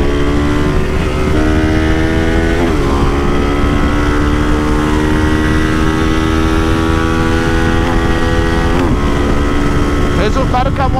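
A Start 230 street motorcycle built for about 200 km/h and running on ethanol, ridden on the road: its engine drones loud and close with rising and falling revs and gear shifts, under steady wind noise.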